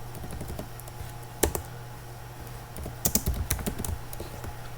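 Close computer-keyboard typing as a new Ansible playbook for Cisco automation is written, with sparse keystrokes and short bursts of quick clicks over a steady low hum, no talking.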